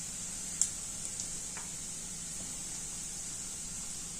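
Chillies fry with ginger and garlic in a pan for vegetable manchurian, a steady sizzling hiss throughout with one faint clink near the start.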